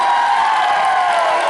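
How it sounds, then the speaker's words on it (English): A live convention audience bursts into loud, sustained applause mixed with cheers and whoops for a sound engineer, a dense wall of clapping filling the room throughout. "Everybody, big round of applause for our sound engineer"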